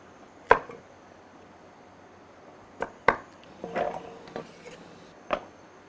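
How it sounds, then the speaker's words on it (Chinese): Knife slicing through lemon on a cutting board while cooking sweet and sour pork ribs, several sharp separate chops landing on the board with pauses between them, close and clear. "切2片柠檬，增加它的香味。"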